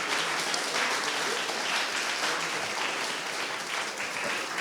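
Sustained audience applause fills a conference hall after an international panel discussion, a dense, even wash of many hands clapping at steady volume throughout with no voices standing out.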